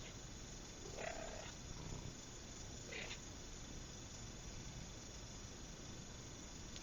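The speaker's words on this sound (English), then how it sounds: "My cat has made an appearance." A cat purrs faintly and continuously close by in a quiet room, a low steady rumble with a couple of brief rustles early on.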